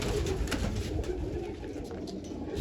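Dense, steady pigeon cooing from a close flock fills the air, a continuous low warbling murmur with little else over it.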